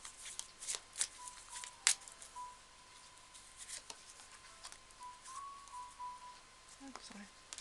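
Tarot cards are shuffled by hand close up, giving soft, quiet riffling bursts and scattered taps in an otherwise quiet room.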